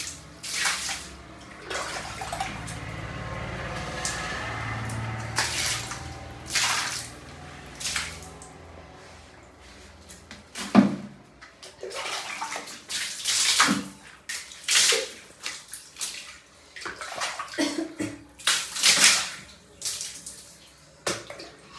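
Water sloshes and splashes across a bathroom floor during deep cleaning, irregular pours and rinsing gushes with squishy scrubbing in between, close and fairly loud.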